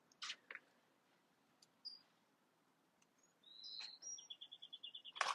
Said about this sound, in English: listen to the birds sing.